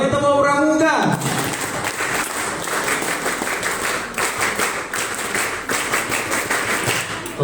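At a national scouting seminar in Indonesia, a large group of scouts performs the rhythmic tepuk pramuka clap. A brief voice comes first, then loud, sustained group clapping with a regular beat runs to the end.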